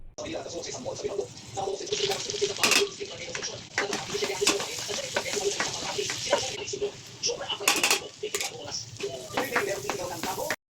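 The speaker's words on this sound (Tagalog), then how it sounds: "Lagay po natin ang ating mantika, butter, at syempre po, magigisa na tayo ng bawang and yung sibuyas" Garlic and onion sizzling in oil and butter in a pan as spaghetti sauce begins, a steady frying crackle with clinks and stirring scrapes, a voice speaking over it now and then.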